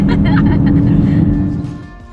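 A Jaguar E-Pace accelerates on a road test, heard as a loud, deep engine and road rumble that fades toward the end, with people talking over it.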